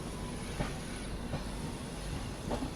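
Rail noise at Ludhiana, where diesel locomotives run: a steady rumbling train with a few faint periodic clacks from the wheels, heard alone with no talk.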